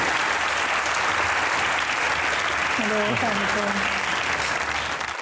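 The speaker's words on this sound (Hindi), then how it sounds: "तालियां होनी चाहिए" Studio audience applause at a Pakistani comedy talk show, a steady dense clapping wash sustained throughout, loud and close, with a brief voice breaking through partway.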